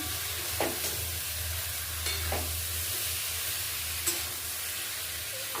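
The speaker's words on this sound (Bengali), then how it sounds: "মশলাটা মাছের সঙ্গে একটু ভালো করে মিশিয়ে নিচ্ছি।" Fried fish is stirred into frying spice masala in a pan, a continuous close sizzle with three or four short scrapes and knocks of the spoon against the pan.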